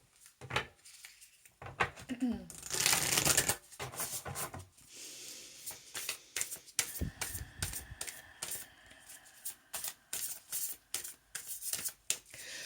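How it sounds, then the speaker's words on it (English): Starseed Oracle cards being shuffled by hand, a rapid series of crisp papery riffles and flicks with a louder burst near the start, close up and without talk over it. "next we will have a card from Starseed Oracle by Rebecca Campbell"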